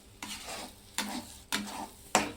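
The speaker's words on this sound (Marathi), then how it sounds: "आता ह्याला पण असं परतून घेते। होईपर्यंत आता याला खाली वरी करत राहायचं आहे।" Egg bhurji stir-fries in a pan with a soft sizzle. A spatula scrapes and turns it in four distinct strokes at a close, quiet level, with no talking.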